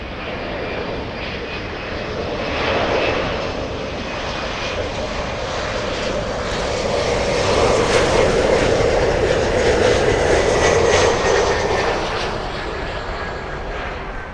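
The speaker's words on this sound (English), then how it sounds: "The next arrival is a little E175" An Embraer E175 jet arrives at Miami airport from Key West, its engine roar steady and broad throughout, swelling louder midway as it passes fairly close, with a thin whine riding on top; no voices.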